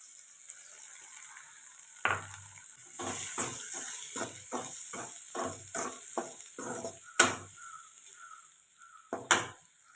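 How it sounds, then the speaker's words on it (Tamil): Two beaten country eggs, seasoned with a little turmeric, fry in a pan for egg poriyal. A soft, steady sizzle runs underneath as a spatula scrapes and stirs in repeated, rhythmic strokes. "இது கூட ரெண்டு நாட்டு முட்டை உடச்சி வச்சுருக்கேன் அதை ஊற்றிக்கலாம்"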